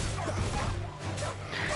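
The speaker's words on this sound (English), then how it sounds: "The dog is the best thing of all time." In a video game, a dog barks and yips with short, sharp woofs and a brief whimper. The sounds sit close and loud amid busy game noise.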